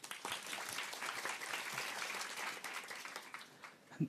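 An audience claps steadily for several seconds, a dense wash of hands that thins out toward the end before a voice begins.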